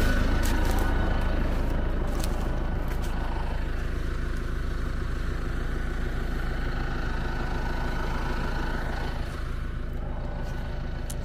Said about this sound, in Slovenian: Ovaj traktor ostaje odavde, kreće orat